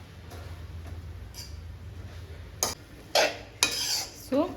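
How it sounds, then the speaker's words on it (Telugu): Gongura leaves are stirred and fried in oil, with a soft background sizzle and several distinct scraping strokes of a spoon against the pan, coming in quick bursts toward the end. "సో ఇప్పుడైతే ఇలా ఆయిల్లోకి ఇవి అన్నీ ఇలా మంచిగా కలుపుకోవాలి. గోంగూర మొత్తం మంచిగా ఫ్రై చేసుకోవాలి."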